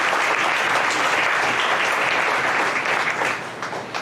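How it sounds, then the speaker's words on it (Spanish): A church congregation breaks into loud, sustained applause that fills the room steadily, then fades slightly toward the end. "Denle un aplauso grande al Señor por su grandeza."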